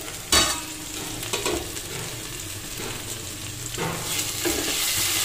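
Tomatoes cooking down in a pan sizzle and bubble at close range, with a sharp clatter near the start and a few scrapes of stirring over the steady frying hiss, no voices.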